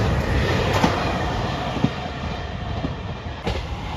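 A JR Shikoku 2600 series limited express diesel railcar on the Uzushio service passes through Sanuki-Tsuda station, making a loud, steady rolling roar with a few sharp wheel clacks over the rail joints.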